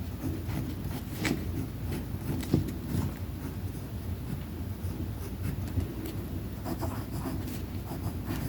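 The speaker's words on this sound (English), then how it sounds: "Just go in and write." Pen scratching across paper in handwriting done with the non-dominant hand, a close, continuous run of soft scraping strokes with small taps and pauses between letters, fairly quiet and with no talking.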